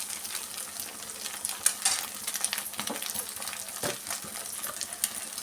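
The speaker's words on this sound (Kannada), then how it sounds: "ಈ ಥರ ಚೆನ್ನಾಗಿ ಆಯಿಲಲ್ಲಿ ಫ್ರೈ ಮಾಡ್ಕೊಂಬಿಡೋಣ" Egg rice frying in oil in a pan, with a steady sizzle broken by scraping stirs and a few sharp clinks of a utensil against the pan, all close up and with no talking.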